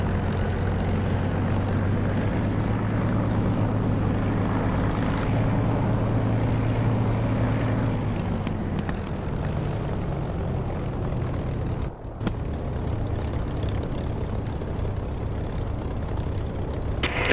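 Propeller aircraft in DCS World flight simulator powering up for takeoff, a loud steady engine drone with a low harmonic hum that shifts pitch and smooths out midway, continuous throughout with no voices.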